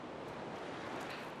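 Water washes and rolls in a steady, soft surf-like wash as a character heads out into the water in the video game Little Nightmares 2, with no voices over it.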